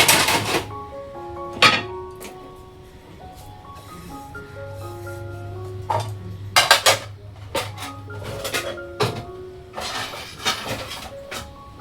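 Dishes and pots clink and clatter in scattered bursts as they are set down and stacked, with a low hum in the background.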